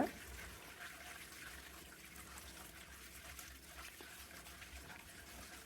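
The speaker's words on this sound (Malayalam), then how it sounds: "വെള്ളം ഒഴിച്ച് വെള്ളം തെളിയുന്നത് വരെ കഴുകിയെടുക്കാം" Running water pours steadily over fish in a kitchen as they are rinsed clean, a soft continuous splashing flow at low level with no clear talking over it.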